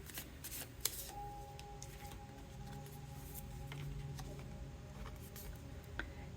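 A deck of cards shuffled close by, soft riffling and flicking at a quiet level with a couple of sharper taps, no voices.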